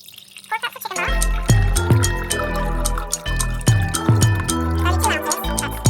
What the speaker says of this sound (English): We're also going to add our 4 cups of chicken broth.